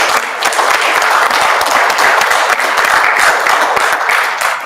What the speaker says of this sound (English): So let's just give them a hand of applause.